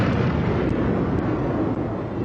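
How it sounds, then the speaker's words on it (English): Loud, sustained roar of an explosion from a Star Wars movie soundtrack, a dense rumbling blast holding steady at close range throughout with no talk over it. "then you'll hear an explosion"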